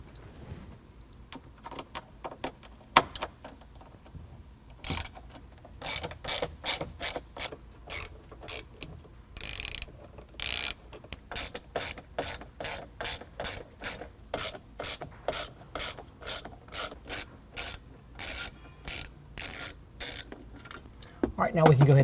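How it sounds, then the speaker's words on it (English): On a 2022 Jeep Wrangler, T25 Torx bolts are backed out of plastic trim with a ratchet, making a long run of rapid, evenly spaced clicks close up, with a few brief pauses between bursts. "They're gonna come out with a T25 Torx bit."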